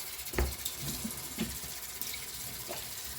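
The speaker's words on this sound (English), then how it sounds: "And then I just wash my face." Running tap water as a face is washed, a quiet steady trickle with a few soft splashes from hands and no talking.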